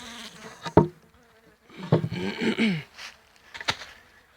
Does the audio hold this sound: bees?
yes